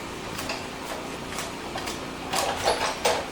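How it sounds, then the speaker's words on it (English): A 3D embossing plate with card stock is cranked through a manual die cut machine, giving soft repeated rolling and clicking mechanical noise that grows louder and rougher in the final second. "I'm going to be using that 3D plate, running it through my die cut machine."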